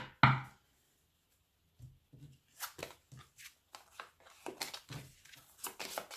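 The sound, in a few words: shuffling tarot cards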